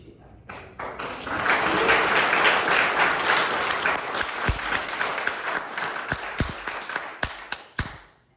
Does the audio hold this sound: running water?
no